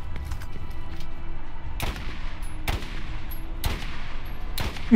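Four loud, sharp sniper rifle shots in Borderlands ring out at a steady, unhurried pace, each with a quick echoing tail, amid game background noise.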